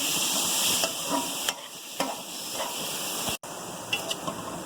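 Chicken pieces and garlic paste fry in hot oil in a kadai, giving a steady close sizzle and hiss with occasional stirring clinks and scrapes, no voices over it.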